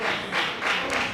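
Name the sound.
audience clapping for him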